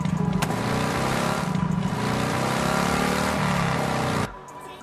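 A motorcycle engine in Last Day On Earth: Survival drones steadily and loudly close by for about four seconds, pitch wavering slightly, then cuts off abruptly, with no talking.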